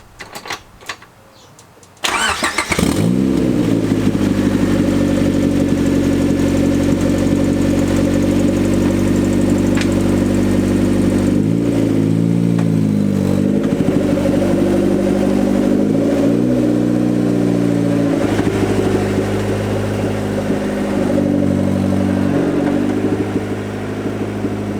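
A turbocharged B18C engine in a Honda EF hatchback cranks and fires after a brief quiet start, then runs loud and close with steady idle and several rises and falls of revving.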